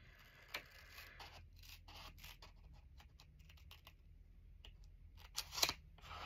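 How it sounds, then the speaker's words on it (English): Scissors snipping a small scored strip from a sheet of paper for a craft project: a few quiet, close cuts and rustles, ending in a sharper crisp snip near the end. "I'm going to take my scissors and I'm going to cut out that little score piece right here"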